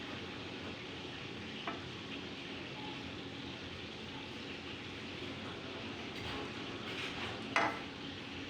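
Quiet stirring of a sticky gelatin mixture in a pot, a soft continuous scraping and bubbling texture with a couple of faint utensil knocks, no talking.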